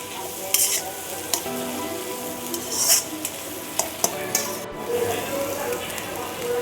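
Vegetables fry in a pan for Hakka noodles while being stirred, a steady close sizzle broken by sharp scraping clatters of the spatula, with no talk.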